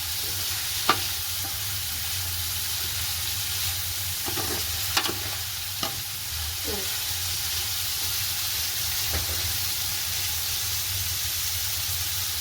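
Onions sautéing in a pan with a constant hiss of frying, broken by occasional scrapes and knocks of stirring, close and fairly loud throughout.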